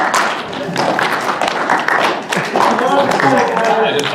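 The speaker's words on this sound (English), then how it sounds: "we gotta do another slow clap" Clapping from an audience at a cosplay panel during the Calgary Comic and Entertainment Expo, loud and continuous, with chatter and voices running over the scattered claps throughout.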